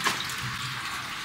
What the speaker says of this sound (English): I'm sure you can hear water running.